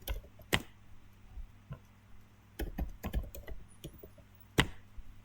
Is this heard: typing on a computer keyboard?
yes